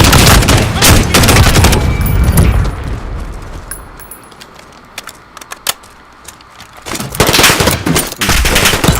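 Gunfire in Modern Warfare, loud, dense automatic bursts at the start and end, with a quieter stretch of scattered single cracks between them and faint voices mixed in.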